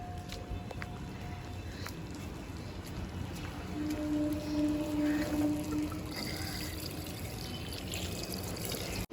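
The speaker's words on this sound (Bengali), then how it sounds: "খুব ঝড় বৃষ্টি হচ্ছে যা দেখছি" Monsoon storm rain falls in a steady, soft rushing hiss with watery trickling, growing slightly louder midway and continuing without pause.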